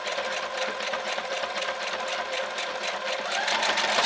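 A Brother RX3340 sewing machine runs steadily at medium speed, a quiet, close, even mechanical whir with a fast regular stitching rhythm and no talk over it.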